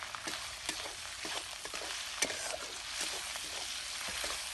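Tomatoes frying with onions in a pan for a fish curry, a soft continuous sizzle broken by sharp stirring clicks and scrapes, quiet and close.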